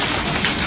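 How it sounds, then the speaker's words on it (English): Dense, steady pounding of hail, a loud continuous rattle with no gaps and no voices. "the unending pounding of hail"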